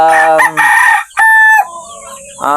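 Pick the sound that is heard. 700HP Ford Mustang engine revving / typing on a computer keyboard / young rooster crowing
young rooster crowing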